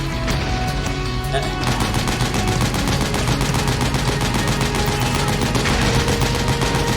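Rapid bursts of automatic gunfire in Metal Gear Solid 4: Guns of the Patriots crackle continuously, loud and close, with a dense rattling rhythm throughout.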